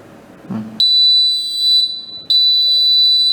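IDpro transponder reader sounding its wrong-can alert: two loud, shrill, steady high-pitched electronic beeps, the first about a second long and the second starting after a short gap, following a soft thud of the can being placed.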